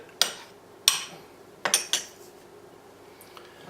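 A spoon clinks against a bowl while a mixture is stirred together: about five sharp, separate metallic taps at uneven intervals over a quiet background.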